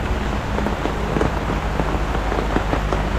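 Heavy rain pours down outdoors beside a flooded home, a loud, continuous hiss of drops pelting surfaces with no letup and no one speaking.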